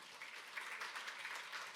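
Applause from an audience at an elderly abuse prevention day ceremony, a steady even patter of many hands clapping at moderate distance, with no talking over it.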